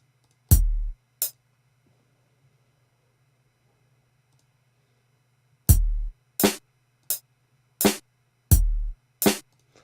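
A programmed kick drum in FL Studio at about 85 BPM hits in short, punchy deep thumps, two near the start, then a silent gap, then a denser run of six, each with a sharp attack and quick decay.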